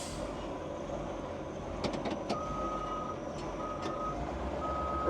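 A CAT military scraper gives off repeated reversing beeps, a steady tone pulsing in evenly spaced bursts over low engine rumble, with a few sharp clanks partway through.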